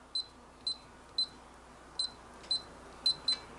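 An electronic safe keypad gives seven crisp, high beeps as a new combination is re-entered to confirm it, evenly spaced at first, then a quick closing pair. Each one is short, close and distinct over a faint background hum, with no voices.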